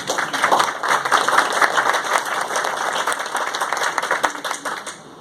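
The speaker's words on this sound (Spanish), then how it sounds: "Un fuerte aplauso, por favor, para todos estos invitados." Audience at a green inclusive finance forum applauds the invited guests with sustained, dense clapping that holds steady before tapering off at the end.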